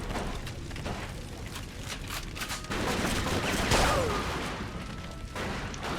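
Bursts of gunfire crackle through a Mafia 2 firefight, with repeated shots and rattling volleys swelling midway, layered over a dense background of game ambience.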